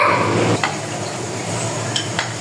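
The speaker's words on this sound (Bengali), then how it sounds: "আমাদের ছোটদা সমোসা ভাজছে, সুন্দর কালার এসছে" Samosas fry in hot oil with a loud, steady sizzle that eases after half a second, broken by a few light clinks of a utensil against the pan.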